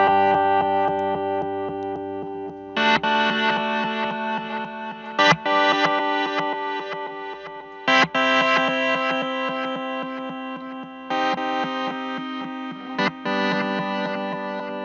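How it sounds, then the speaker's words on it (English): Electric guitar through a Walrus Fundamental Delay pedal in reverse mode, sustained chords and notes swelling backwards with shimmering, distorted repeats, heard alone. "reverse is going to play your notes back at you backwards"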